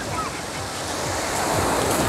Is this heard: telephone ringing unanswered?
no